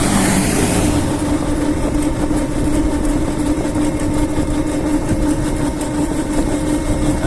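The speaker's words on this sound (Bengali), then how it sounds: "ভোর রাতে ট্রেন পার হচ্ছে আর কি ফরিদপুর হয়ে" A train passes before dawn on the line through Faridpur, a steady rumbling drone with a low engine hum that holds evenly throughout, heard from a moving road vehicle.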